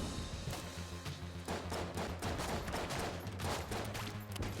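Rapid pistol fire in modded Enter the Gungeon, a dense continuous stream of overlapping shots mixed with game music and effects, with no talk.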